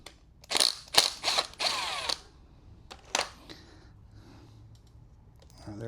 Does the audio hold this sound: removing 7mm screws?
yes